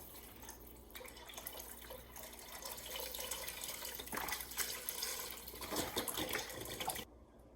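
Water pours steadily into a pot of homemade beef-broth pho, a continuous close splashing stream lasting several seconds with no talking, then stopping abruptly.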